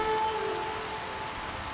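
Rain falling steadily on surfaces during a rainy-day village scene, a dense even patter of drops close by with no voices.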